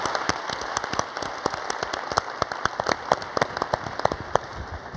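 Audience applause at the close of a Young World 2012 conference session. The clapping is steady and dense and fills the room, made of many individual claps at a moderate distance, with no voices over it.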